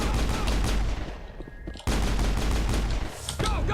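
Gunfire in the Mass Effect firefight against mercenaries: dense, continuous volleys of shots, briefly dropping away for a moment, then resuming loud and sustained.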